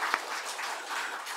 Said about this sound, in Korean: 한번 우리 찬양대를 위해서 박수 한번 더 해드립시다